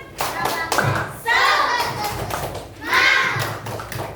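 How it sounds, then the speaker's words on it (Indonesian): A class of young pupils does a rhythmic spirit clap: a short run of quick, patterned hand claps with thumps, then the children chant loudly together in bursts. "Tepuk semangat."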